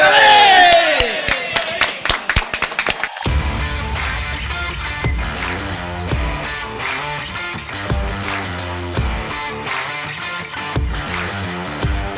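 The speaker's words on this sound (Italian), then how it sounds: "per Diretta Sport un applauso, 2 applausi, 3 applausi, 4 applausi e per Diretta Sport entusiasmo!" A crowd at a Sardinian gym boxing championship exhibition claps and cheers in rhythmic bursts with whoops, loud and close, after a brief opening of noise, with voices mixed in.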